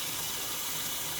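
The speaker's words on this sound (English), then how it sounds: "just put some water in here just to make sure this isn't going to leak" Water pouring steadily into a Royal Berkey gravity water filter, a soft continuous splashing wash that stays even and fairly quiet throughout, with no voices.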